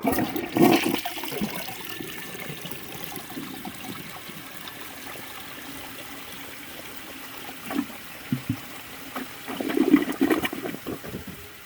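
A 1976 Eljer Emblem toilet flushes with a rushing burst of water, then a long, quieter trickle and gurgle as the tank refills, with a few louder splashes and gushes near the end, heard up close.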